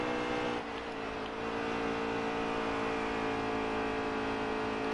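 A racing truck engine at Homestead in a truck racing video game, a loud sustained high-revving whine that holds steady after a brief dip at the start, with no voices.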